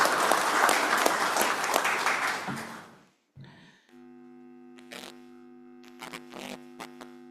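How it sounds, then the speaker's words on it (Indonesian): Applause from an audience at the opening of the eighth MUSCAB branch meeting, loud and dense for about three seconds before it ends abruptly. A steady electrical hum and a few faint knocks follow. "Aplaus untuk kita semua"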